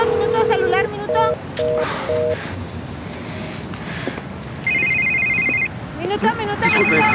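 A mobile phone ringtone plays in repeated electronic melodic bursts, fairly loud and close, with people speaking over and between the rings.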